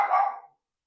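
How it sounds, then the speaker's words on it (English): A single sharp dog bark rings out close and fairly loud, then fades within about half a second into silence. "there's my dog"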